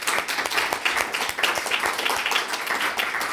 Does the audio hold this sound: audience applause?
yes